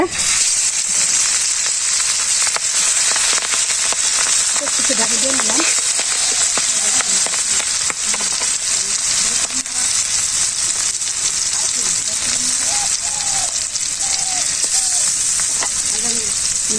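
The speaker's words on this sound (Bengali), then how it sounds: "তেলটা গরম হয়ে গেছে এখন দিয়ে দেবো একটা একটা করে" Tilapia fish frying in hot oil in a home kitchen, a loud continuous sizzle and hiss with faint crackles throughout, steady and close.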